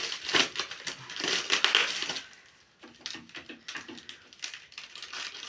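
Crinkly tearing and crunching of tape and packaging, dense at first, then a pause followed by scattered rustles and snips, close by.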